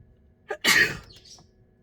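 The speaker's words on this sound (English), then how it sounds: "I feel like I'm going to sneeze" A single sharp sneeze breaks the quiet, preceded by a quick inhaled catch, close and loud.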